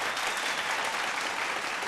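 A studio audience at a televised vocal competition applauds the returning wild-card singers. The clapping is brief, steady and fairly soft, and no voice is heard over it.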